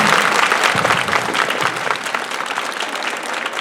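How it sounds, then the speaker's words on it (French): School audience at a ceremony for the Institut Saint-Vincent staff applauds heartily, a thick continuous roar of many hands clapping together that stays strong throughout. "j'aimerais que l'on applaudisse fortement l'ensemble de toute l'équipe de l'Institut Saint-Vincent."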